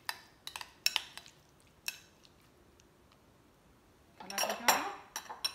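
Mayonnaise being mixed in a bowl with a utensil while making club sandwiches, heard as scattered close clinks and scrapes of metal against the bowl, with a denser burst of scraping and stirring near the end.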